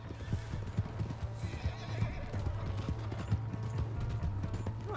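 Hoofbeats clip-clop quickly with a horse's whinny as a stolen horse gallops off in Red Dead Redemption 2, in the town of Valentine; steady rhythmic hooves close by, a neigh rising above them.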